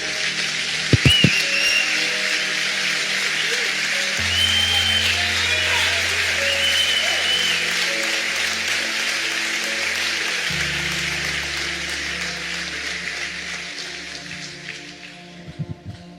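A church congregation in a Portuguese-language evening service applauds Jesus, sustained dense clapping filling the room for about fifteen seconds, with a few sharp bursts near the start and end and a low organ or keyboard drone shifting underneath.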